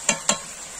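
Spice pastes of dried red chilli, onion, cumin and ginger are stirred into garlic frying in a pan, giving two brief scraping strokes over a soft steady sizzle, with no talking.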